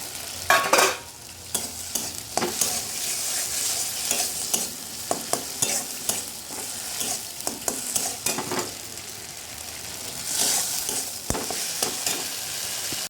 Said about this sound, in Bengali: ওই মশলাটার সঙ্গে আমি চিংড়ি মাছগুলো একটু কষিয়ে নেবো